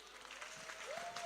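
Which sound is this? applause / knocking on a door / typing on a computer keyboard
applause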